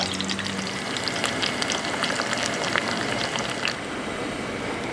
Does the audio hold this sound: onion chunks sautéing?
yes